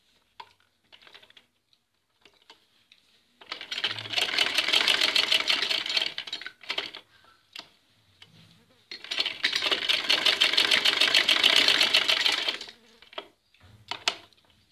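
A sewing machine stitching a salwar hums in two steady runs a few seconds each, with faint clicks and handling sounds in the quiet stretches around them.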